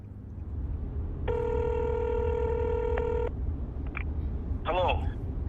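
An outgoing telephone call rings out with one steady ringback tone lasting about two seconds, followed by brief faint voice-like sounds on the line.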